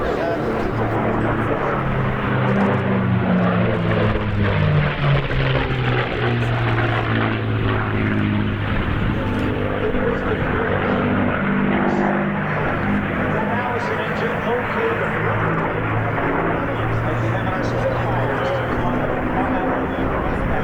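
A P-51 Mustang propeller plane's engine drones loudly and steadily, its pitch shifting as it passes overhead at an air show at Cherry Point.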